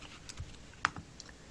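Brief soft clatter of fingers typing a patient's name on a computer keyboard, a few light irregular keystrokes with one sharper click in the middle, close and quiet.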